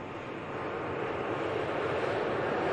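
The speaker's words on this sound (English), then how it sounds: "following this Virgin 330 touchdown" An Airbus A330 airliner in Virgin livery touches down at Manchester Airport in hot weather, a steady broadband jet roar at moderate distance that holds level throughout with no talk.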